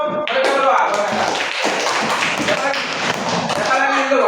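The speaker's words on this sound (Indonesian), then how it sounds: "Tepuk tangan untuk mereka berdua." Students clapping in a classroom, a dense burst of hand claps that runs for several seconds, with a teacher's voice speaking briefly before and after it.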